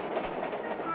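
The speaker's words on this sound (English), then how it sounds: "Let's ride three of the many mainline eastbound nickel high-speed trains" A Nickel Plate Road high-speed eastbound mainline freight train rolls along the rails with a steady muffled rumble and faint rhythmic clatter, continuous and moderately loud.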